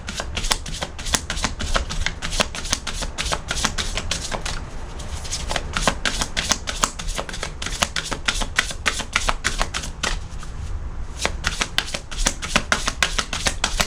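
Tarot cards being shuffled for a reading: a steady stream of crisp riffling and flicking, close and continuous with brief softer pauses, and no talking.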